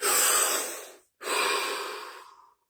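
Two deep breaths sound close up, a long airy inhale followed after a brief pause by a long exhale that fades out.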